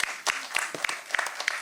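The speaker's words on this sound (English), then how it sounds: "a loud round of applause for them" A loud round of applause breaks out from the audience at a World Alzheimer's Day panel, honoring dementia caregivers; scattered claps with sharp individual strikes, fairly near.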